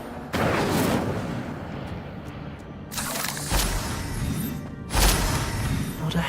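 An Incendio fire spell is cast in the Hogwarts Legacy video game, producing loud bursts of roaring, crackling flame. Three separate whooshing blasts stand out over a steady game background.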